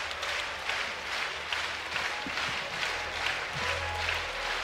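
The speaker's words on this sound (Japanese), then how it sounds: "鳴り止まぬ手拍子の中" A crowd in a RIZIN fight arena at Aichi Prefectural Gymnasium claps steadily in rhythmic unison, a dense continuous patter with faint low voices underneath.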